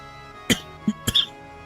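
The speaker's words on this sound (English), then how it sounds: "Now I'm like coughing and shit." A few short, sharp coughs, close and fairly loud, spaced unevenly within a couple of seconds against a quiet background.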